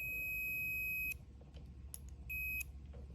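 A multimeter set to continuity beeps while its probes test a 4L80E transmission's transbrake sensor, giving two steady high tones, a longer one then a shorter one, over a low background hum.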